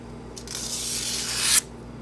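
Wood being push cut with a GEC whittling knife with a 1095 steel blade gives one smooth, close shaving hiss lasting about a second. The hiss brightens toward the end and then stops abruptly, with no voices.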